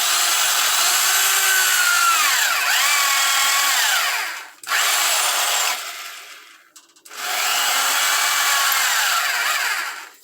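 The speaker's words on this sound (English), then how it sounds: "I just take a pilot bit and I drill around the circle in here" A drill with a pilot bit whines steadily under load in two long bursts separated by a brief stop, the pitch wavering as it grinds out old suspension bushings on a Chevrolet C4 Corvette.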